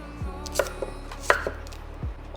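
A knife cutting through a 350-gram red-skinned sweet potato on a board, a few distinct chopping knocks spaced unevenly, close and clear with no talking.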